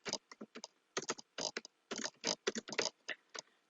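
Computer keyboard keys pressed in quick irregular bursts of clicky taps, close and clear, as a Ctrl S save shortcut is used while working in Excel.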